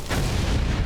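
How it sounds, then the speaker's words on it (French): Explosions in the video game Hollow Knight Silksong, heard as a dense, loud, continuous low rumble of overlapping booms through a short stretch, with no speech. "Il y a beaucoup d'explosions ici."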